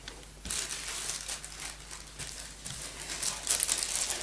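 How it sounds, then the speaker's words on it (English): Close, continuous crinkling of a thin plastic vinyl record sleeve, with bursts of sharper rustling as the sheet is handled and squeezed. "It comes with this plastic bag, which is quite hard to get back in."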